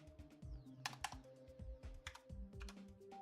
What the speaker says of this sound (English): I really don't like this keyboard for actually typing.